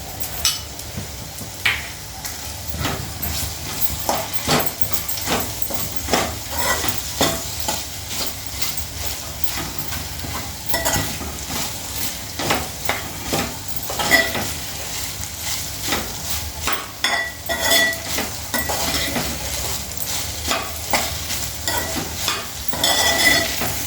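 Sliced okra fries in a pan for a spicy dry fry, with a steady oily sizzle under constant rhythmic scraping and stirring strokes that continue without pause throughout.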